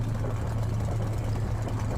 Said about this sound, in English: The smell of the engine turning over and the wind it creates and the noise is overwhelming to the senses.